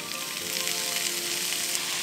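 Ground beef frying in olive oil in a pan for Turkish pide, a loud close continuous sizzle with crackling spatter, steady throughout and heard alone.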